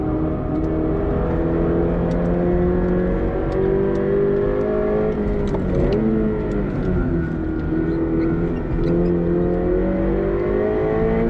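A Subaru BRZ street-and-track build races around the Mosport GP circuit, its engine droning loud and steady from inside the car, pitch rising and falling with shifts and throttle, with no talking.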